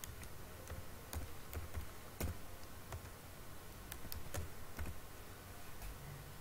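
Names are typed into an online application form on a computer keyboard: soft, scattered key clicks in an irregular rhythm, faint and close, with no talking.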